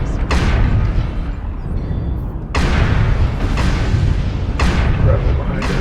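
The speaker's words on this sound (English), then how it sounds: "Artillery strike activated." Artillery strike explosions in MechWarrior Online land as three heavy booms spaced a couple of seconds apart over constant loud battle rumble, with radio-style voices talking underneath.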